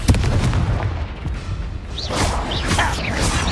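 A Confringo fire spell blasting in Hogwarts Legacy, a heavy booming impact with a rumbling crash, followed by whooshing magical swishes and crackles.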